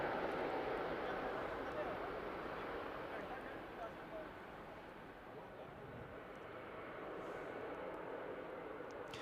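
A distant heavy jet's engines roar steadily at a busy airport in the evening, a broad continuous rumble that dips slightly midway and then swells again, with a voice faintly under it.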